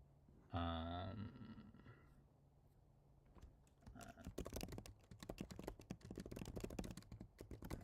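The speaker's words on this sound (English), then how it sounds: "Sorry for the typing. I think you might be able to hear that." Rapid, uneven clicking of typing on a computer keyboard, close and steady for several seconds, after a brief low thump at the start.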